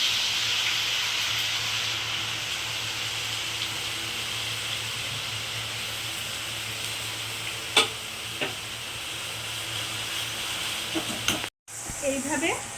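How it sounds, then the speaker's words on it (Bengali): Sliced potatoes fry in hot oil for Bengali-style aloo bhaja, giving a steady, close sizzling hiss throughout. A couple of sharp utensil clinks stand out, and the sound cuts out briefly near the end. "এইভাবে আমি অপরগুলো ভেজে নিচ্ছি"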